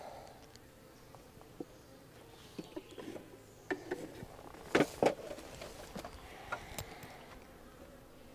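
Honeybees buzz around a tall stacked backyard hive during a strong nectar flow, a faint steady hum broken by several louder close passes as individual bees fly near, with no talking.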